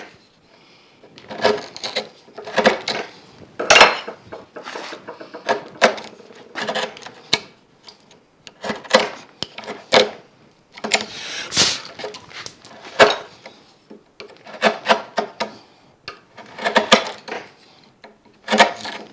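Sharp, irregular knocks of a chisel chopping and paring wood to cut a half-blind dovetail joint, close and fairly loud, arriving in quick clustered bursts with short pauses between strikes.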